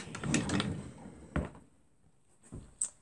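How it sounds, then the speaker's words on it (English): Drawers in a room under deep cleaning and decluttering are opened and shut with a few short knocks and slides, first a cluster of soft rumbles, then separate thuds at moderate distance, with no talk. "We're gonna clean out the drawers first."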